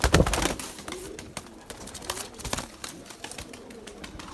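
Pigeons coo repeatedly close by, with scattered bird calls and the flutter of wings amid rustling outdoor background noise.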